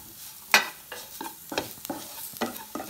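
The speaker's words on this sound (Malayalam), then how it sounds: "അത് നമ്മൾ ലൈറ്റായിട്ടൊന്ന് കുക്ക് ചെയ്യാം അത് 4 പീസ് ടൊമാറ്റോ ഇടുന്നു" A spoon scrapes and stirs through prawn curry masala frying in a pan as four pieces of tomato go in, giving a sharp splash and sizzle followed by several rhythmic stirring strokes with a steady hiss underneath.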